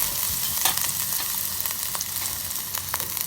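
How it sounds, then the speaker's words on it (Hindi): Chopped ginger and garlic sizzle in a tablespoon of hot oil in a kadai, a close, steady crackling fry with scattered sharper pops throughout. "इसमें 1 टेबल स्पून तेल डाल दिया। ये 1 टेबल स्पून अदरक लहसुन"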